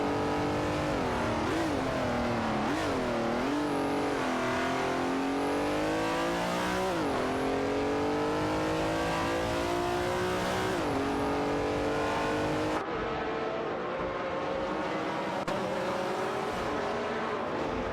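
Race cars on a track in a racing game, engines roaring continuously and revving up and down through gear changes as several cars jostle close together, loud and unbroken throughout.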